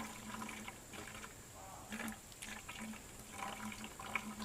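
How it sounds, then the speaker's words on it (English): Fine mist water running and trickling into a portable rain catch funnel, a soft continuous dribble with faint splashy surges, quiet and close. "Look at all that water we're catching."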